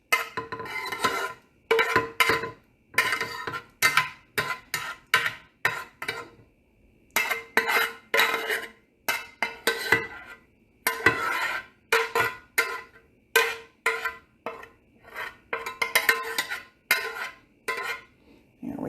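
Shrimp, sautéed mushrooms and bean sprouts go into a hot pan for a Chinese dish, with repeated close bursts of clattering, scraping and tossing separated by brief pauses, and no talking.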